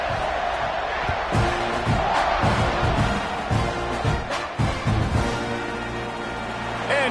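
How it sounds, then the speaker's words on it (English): A stadium crowd at an American football game buzzes loudly after a score, with a broad roar and scattered shouts and whoops rising and falling for several seconds. "this crowd is buzzing after that last score"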